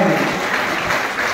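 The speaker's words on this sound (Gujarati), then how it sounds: "ફરી એકવાર જોરદાર તાળીઓ પાડી" Crowd at a World Tribal Day celebration in a community hall applauding, a loud, dense, continuous roar of clapping from start to finish with no talking.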